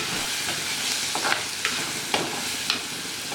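Onions and shallots sauté in oil for a Kerala prawn roast, a dense steady sizzle up close with a few sharp spoon scrapes spaced evenly through it, with no voices.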